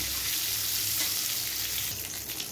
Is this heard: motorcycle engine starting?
no